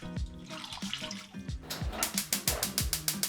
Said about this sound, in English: add in the daikon, and cover in water.